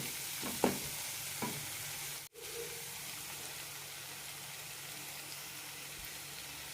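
Ground masala paste poured into a pan of frying tomato masala for egg kurma, then stirred, with a soft wet sizzle and a few scraping stir strokes early on, quietly continuing under a low steady hiss.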